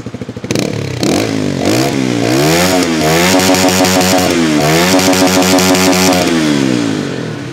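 A Rusi Flash 150i X underbone motorcycle, with a single-cylinder, four-stroke, four-valve, liquid-cooled engine, starts and is revved up and down repeatedly from close by. The engine note is loud and rises and falls in clear sweeps, then settles near the end.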